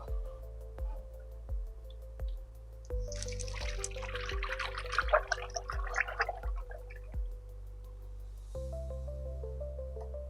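Sugar syrup poured from a bee feeder, a liquid gurgling and splashing for several seconds, loud and close, over a steady mechanical hum with periodic clicks.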